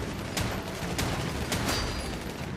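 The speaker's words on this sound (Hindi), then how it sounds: "मैं यहाँ ऊपर हूँ, सबको शॉटगन से उड़ा रहा हूँ" Shotgun blasts in a video game: several sharp bursts a fraction of a second apart, cutting through a dense, steady roar of background game noise.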